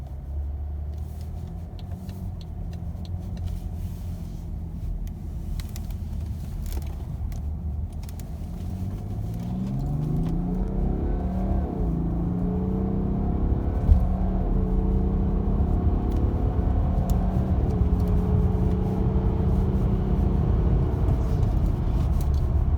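A BMW F10 535d diesel sedan with over 300,000 km accelerates briefly during a test drive, heard from inside as a steady engine rumble and road noise that rises in pitch and loudness toward the end.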